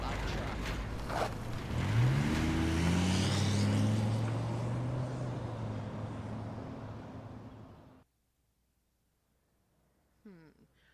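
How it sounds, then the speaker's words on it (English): A truck engine in the Life is Strange video game roars loudly nearby, rising in pitch as it revs at the start, then rumbling steadily before cutting off abruptly into near silence, with a brief faint sound near the end. "she got a loud truck"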